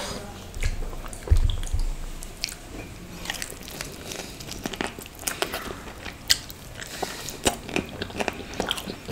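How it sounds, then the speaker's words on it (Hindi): Close, loud chewing and crunching of grilled non-veg barbecue food, teeth biting through bones, with repeated sharp cracks and wet squishy bites over about nine seconds and no talking. "हड्डियाँ चबा जा रहा हूँ"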